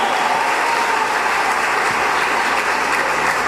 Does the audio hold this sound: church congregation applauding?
yes